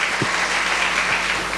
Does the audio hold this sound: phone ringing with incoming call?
no